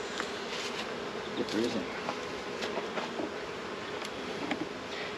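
Honeybees buzzing steadily around an opened eight-frame hive box during a larvae check, a dense close drone with brief louder swells, and a person talking briefly over it.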